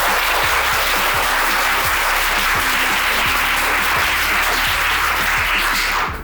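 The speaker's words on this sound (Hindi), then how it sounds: "सबसे पहले आप अपने सर के लिए जोरदार तालियों से इनका" An audience at a school event claps loudly and continuously, a dense, even burst of applause that fades slightly only at the very end.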